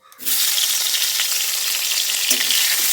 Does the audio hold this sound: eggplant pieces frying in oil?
yes